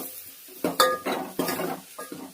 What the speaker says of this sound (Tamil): அரைச்சி வச்ச மசாலையை சேர்த்துக்கலாம். நல்லா வதக்கிக்கோங்க.